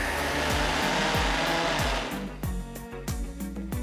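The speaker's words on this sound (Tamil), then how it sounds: "தண்ணி ஊற்றாம ஃபர்ஸ்ட் அரைச்சிக்கோங்க" A mixer grinder whirs loudly and steadily as it grinds leftover cooked rice, salt and sour curd into dosa batter without water, with the motor pulsing in rhythmic surges near the end.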